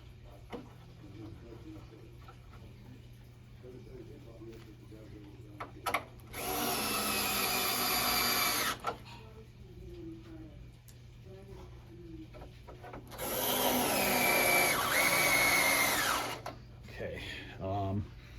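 A power drill drives screws into two wooden blocks while an arcade cabinet's marquee bracket is refitted, two loud sustained whirring bursts of about two seconds each, separated by quieter handling noise and some talk.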